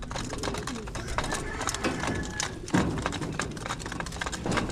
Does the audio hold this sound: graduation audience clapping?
no